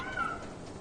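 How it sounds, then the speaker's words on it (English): A cat meows once in the video game Lies of P, a short rising and falling call that sounds close and clear over a steady game ambience. "Meow."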